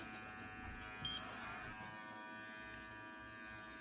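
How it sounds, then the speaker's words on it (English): Electric clippers buzz steadily and close up while lightly shaving fur on the side of a dog's toe, a continuous hum with a brief louder moment as the blades touch the hair. "So I normally start from the side of the toe and shave it lightly, going in and out."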